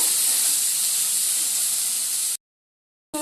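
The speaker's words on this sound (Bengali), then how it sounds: "এবার দিয়ে খুব ভালো করে নাড়াচাড়া করে নেব" Boiled taro flowers stirred into hot masala over high gas, giving a loud, steady steamy hiss close by that cuts off abruptly, then briefly resumes.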